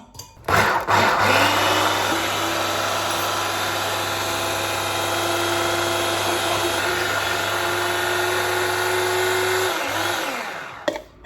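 A food processor grinds hazelnut powder toward a nut cream, its motor spinning up into a loud, steady whirring drone that holds for about nine seconds before winding down, with no talk over it.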